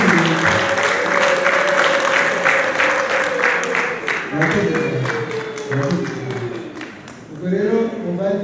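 Audience applause at a wedding ceremony, a steady sustained round of clapping from a crowd that swells and fades slightly, with a voice speaking over it.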